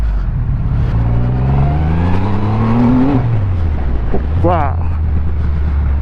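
A custom Triumph Rocket 3 motorcycle accelerates hard in first gear, its loud, close engine note climbing steadily in pitch before dropping off and settling, while a rider exclaims over it.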